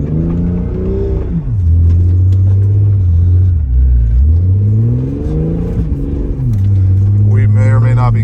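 A two-wheel-drive Jeep WJ engine revs hard in a snowstorm as the vehicle spins around, its loud droning pitch swooping up and down in repeated surges, close and dominant throughout.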